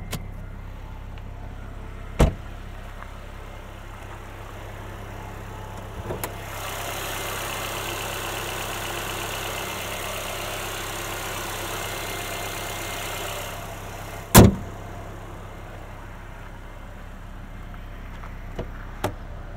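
A 2020 Mercedes-AMG A35 sedan engine idles with a steady, low hum that holds for several seconds, broken by a few sharp clicks and thumps as the hood is opened.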